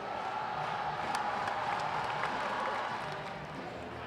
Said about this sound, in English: Cavemen going with their class cheer, getting the crowd amped